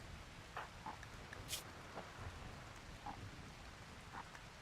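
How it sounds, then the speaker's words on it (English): Soft rain patters steadily in the video game RimWorld, a quiet hiss with scattered drop ticks and a faint rumble underneath, fairly distant and low in level. "And rain, thank God."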